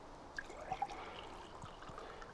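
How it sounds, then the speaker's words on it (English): Rice beer yeast starter poured into a sample glass, a soft thin trickle of liquid running steadily with a few small splashy drips, close and quiet with no voices. "I'm gonna pour myself a sample"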